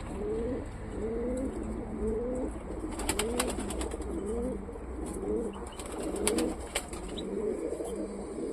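Pigeons coo in a steady series of low, rolling calls, fairly close, with occasional brief rustles or wing flaps partway through and no talking.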